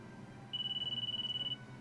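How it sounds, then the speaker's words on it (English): Electronic phone ringtone in the video game Disgaea 5, a rapid trilling burst lasting about a second, moderately loud over a low background hum. "Crystal, your phone is ringing."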